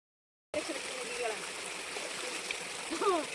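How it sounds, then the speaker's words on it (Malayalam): A small stream in a hot, dry-season countryside setting, where cattle are bathed, flows with a steady, close broadband rush that begins after a brief silence. Faint chirping or voice-like tones sit lightly over the water. "ഇതൊരു ചെറിയ പ്രദേശത്ത് ഇങ്ങനെ ഒരു ചെറിയ അരുവി"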